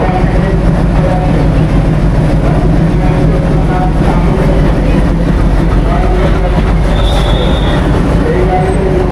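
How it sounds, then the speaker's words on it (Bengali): Kamrup Express passenger train from Howrah to Dibrugarh running at speed, a loud constant rumble of wheels on track with a brief squeal, heard close from inside the coach. "তো ফাইনালি আমাদের ট্রেন 15961 হাওড়া ডিব্রুগড় কামরূপ এক্সপ্রেস"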